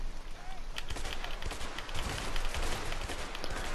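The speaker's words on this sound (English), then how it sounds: "I'm shooting them" Dense gunfire in the co-op game A Way Out, rapid overlapping shots crackling continuously under players talking.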